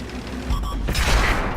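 A tank gun fires in the World of Tanks video game: a short, heavy boom with a low rumbling tail over steady game background noise.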